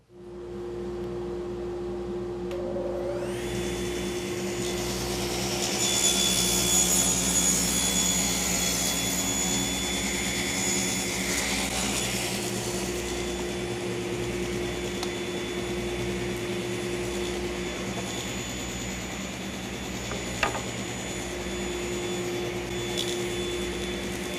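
Table saw with a 90-degree crosscut sled spinning up and cutting wood to length, a loud close motor whine that holds steady for over twenty seconds, rising slightly as the blade passes through, with a sharp knock near the end.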